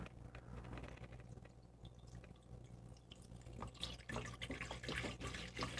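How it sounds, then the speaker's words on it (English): Brita-filtered water is poured into a container for steak on toast, a faint trickling stream with small drips and splashes that grows busier toward the end, heard quietly in a kitchen. "we're gonna go ahead and start putting some water in here"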